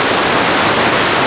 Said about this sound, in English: Coming down to the waterfalls,